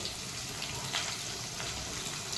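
Okra frying with cumin in a pan, a dense, continuous close sizzle filling the whole stretch at even loudness.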